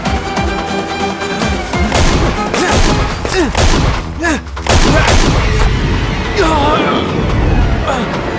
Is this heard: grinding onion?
no